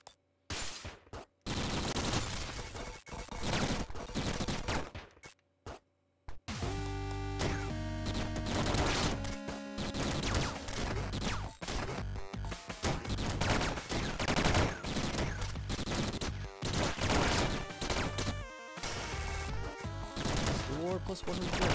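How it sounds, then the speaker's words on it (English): Rapid gunfire from gunboots in the video game Downwell rattles nonstop in dense volleys, loud and up front, with a couple of short gaps near the start before a long unbroken stream. "then you use, like, constant firing."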